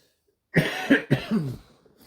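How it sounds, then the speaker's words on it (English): A short burst of several rapid coughs close to the listener, loud and harsh, followed by a fading breathy trail. "It's been a month since I got my cough."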